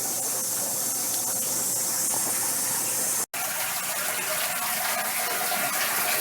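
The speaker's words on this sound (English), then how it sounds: "when the machine is in use and the totes are going through the conveyor, the sanitizer side will also spin" An MLT830 utensils tunnel tote washer runs with its sanitizer side spinning, giving a steady, loud rush of spraying water and hiss that continues throughout, broken only by one very brief dropout.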